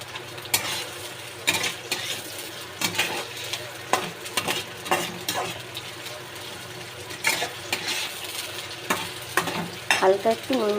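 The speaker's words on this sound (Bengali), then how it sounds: "তাতে আমি তেলটা দিয়ে দিয়েছি। এবার আমি কাঁচা পেঁয়াজটা দিয়ে দেব।" Raw onion dropped into hot oil and frying, a steady bright sizzle broken by repeated stirring scrapes and clatters of a utensil against the pan, close up, with no talk over it.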